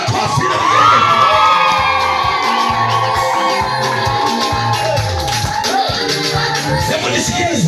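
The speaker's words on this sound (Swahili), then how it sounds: "Piga Yesu makofi na vigelegele" Church congregation breaks into loud, sustained shouting, cheering and ululation, a dense crowd roar filling the space with high trilling voices over scattered clapping.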